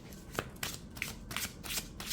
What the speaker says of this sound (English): I think that the more you work with it, it will get easier to shuffle.